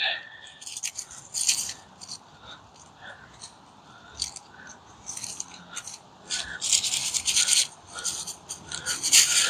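Hay mulch being spread and raked over a vegetable garden bed among carrots, turnips and collards, giving bursts of dry rustling, crunching and scraping at close range that come and go in uneven clumps.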